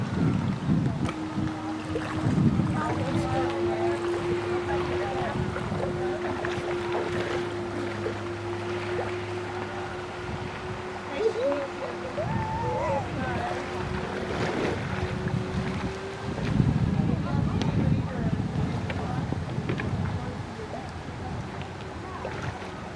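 Live steam model Blockade Runner boat, built in 1974, running on open water with a faint steady engine whine drifting near and far, under gusty wind noise and lapping water.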